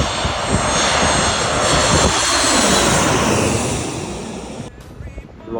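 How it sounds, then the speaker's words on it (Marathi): A large airplane roars overhead near the sea at Phuket, its loud, broad engine rumble swelling and slowly fading over several seconds before quieter ambient sound takes over at the end. "लय मोठा आहे विमान त्याच्या कम्पॅरेटिव्हली"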